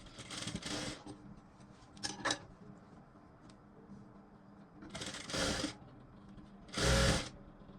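A sewing machine stitching a blouse whirs in several short bursts separated by quiet pauses, each run lasting under a second, close and moderately loud with light handling noises between.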